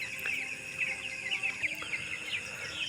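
Chickens on a poultry farm cluck and chirp in a steady, fairly quiet chorus with overlapping calls and no talking.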